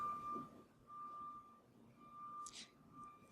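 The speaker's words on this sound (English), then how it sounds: "What's that beeping sound?" Reversing beeps from a backing vehicle, a faint, evenly spaced series of single tones heard at a distance behind a quiet room.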